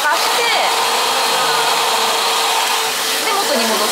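A hair dryer blows continuously and loudly at close range while drying short bangs, a steady whooshing roar with slight shifts in tone as the airflow moves.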